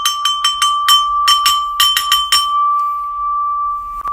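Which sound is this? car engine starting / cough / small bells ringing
small bells ringing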